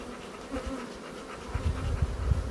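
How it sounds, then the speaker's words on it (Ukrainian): Steppe honey bees buzz steadily close by, a droning hum that swells louder toward the end, with no voices. "ця моя бджола, наша степова"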